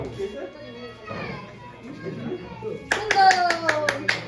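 Hands clapping at a birthday celebration, a quick run of about seven sharp, close claps that comes after a stretch of voices talking.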